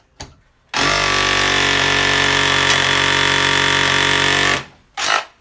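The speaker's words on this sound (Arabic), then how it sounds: "راني رايح نثقب القابي تاعي" A power drill bores a hole for a boiler installation, with a loud, steady high-pitched grinding whir held for about four seconds, bracketed by brief starts and a short final burst, close up.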